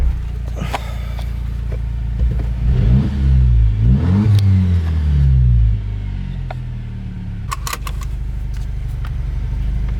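A 2020 Jeep Wrangler fitted with an AFE axle-back exhaust drives and accelerates, its engine swelling into a deep, throaty rumble and rev before easing back to a steady cruising drone, heard close with a few clicks and knocks.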